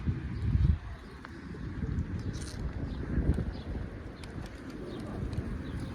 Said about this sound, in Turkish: Kuş var da.